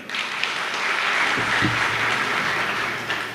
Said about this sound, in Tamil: ஒரு கைத்தட்டு கொடுங்க.